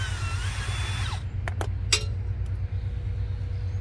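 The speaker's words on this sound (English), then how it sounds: "You don't have to have a drill, but I just prefer to use one." A power drill backs out a 7mm seat bolt on a 2007-2013 Chevy Silverado, a high whirring burst lasting about a second, then a few sharp metallic clicks over a low steady rumble.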